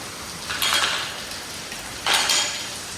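Steady rain hisses continuously nearby, with two brief louder surges of pattering; no voices.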